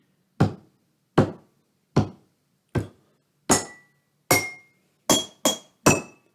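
Glass jars, including a rectangular one tuned to G, tapped in a steady rhythm of nine ringing clinks, the later strikes brighter and the last three coming closer together, close up with no talk.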